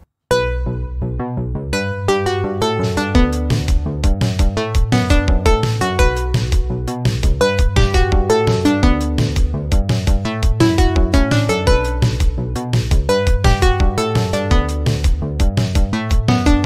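An 80s-style new wave pop track built in Bitwig plays loud and alone, with a steady driving beat, punchy bass and layered synth chords throughout.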